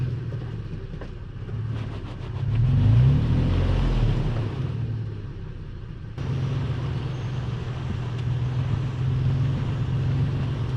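Toyota FJ Cruiser stuck on an off-road trail at Elbe Hills OHV, its engine droning and surging as it is revved, with a louder push near the start and a steady low rumble after.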